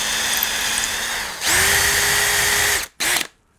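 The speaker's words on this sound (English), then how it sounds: "So just popping my drill in" A power drill whirs loudly while widening a hole in an arrow shaft, running steadily, stopping briefly, restarting, then giving a short final burst before falling silent.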